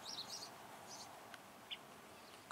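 Birds calling outdoors beside a tiny house under construction, with a few short, faint chirps scattered over steady background noise.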